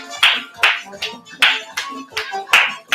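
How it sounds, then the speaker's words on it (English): Sharp hand claps ring out in a steady beat during a dance lesson, about two per second, close and crisp with short gaps between them. "Remember, you can start doing with the clapping."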